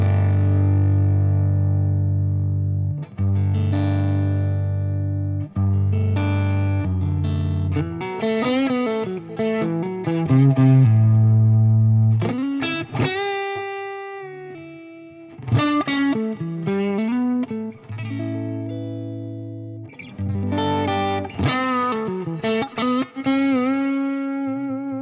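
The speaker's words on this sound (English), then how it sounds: "That's the farty noises that we know from vintage amps" Distorted electric guitar through a vintage-style amp, with loud sustained chords and single-note phrases whose fuzzy, breaking-up tone swells and decays with short pauses between.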